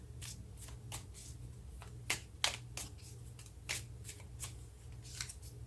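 Tarot cards drawn and shuffled from a deck, a quick run of crisp papery flicks and slides at close range, irregular in rhythm, with no talking.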